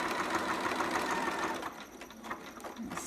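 Elastic is sewn around a Harper sitter romper on a sewing machine, which whirs at a steady fast pace up close, then slows and runs in shorter uneven spurts.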